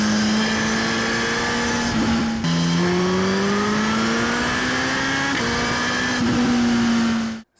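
A Suzuki motorcycle engine revs and climbs steadily in pitch, loud and close, with a brief drop as a gear shifts before it rises again.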